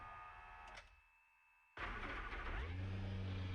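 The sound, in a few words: Ferrari race car engine starting, video game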